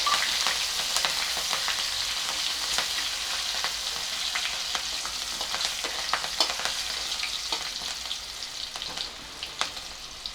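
Cumin seeds, asafoetida and three green chillies frying in hot oil over a low gas flame, a steady close hiss and crackle with scattered pops that lasts throughout, and no voices.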